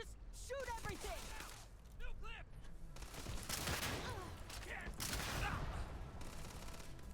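Gunfire in the space game Starfield: bursts of rapid shots crackle through a busy firefight, with voiced gasps and effects layered over a dense, continuous game soundtrack.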